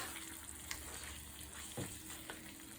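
Chicken varuval fries in a pan with a soft, steady sizzle and faint bubbling hiss, close but quiet, with an occasional small clink and no speech.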